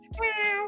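A cat gives a single short, clear meow, close by and brief, with no talk over it.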